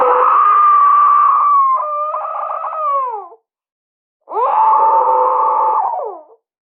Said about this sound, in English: Want to get a pillow and yell into something?